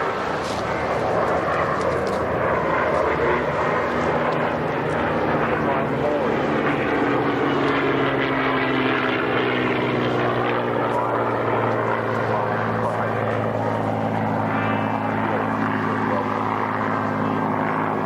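Sally B, a vintage four-engine bomber, flying at an airshow, its propeller engines giving a loud, steady drone that swells and then slowly fades as it passes, heard continuously over nearly twenty seconds.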